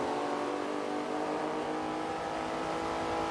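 A Porsche race car in a racing video game gives a continuous droning engine note at steady revs, moderately loud and alone with no talking, as it lapped through corners in a GT event.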